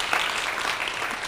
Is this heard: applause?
yes